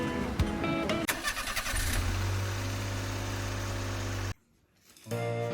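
A car engine starts up: a few seconds of cranking and rattling, then a steady low idle that cuts off abruptly, and after a short silence the engine sound returns, close and loud.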